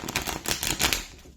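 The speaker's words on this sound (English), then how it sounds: "these decks do not want to shuffle at all." A stiff, brand-new tarot card deck is shuffled by hand, giving close, dry riffling and flicking bursts in quick uneven clusters over about a second before trailing off, with no talk.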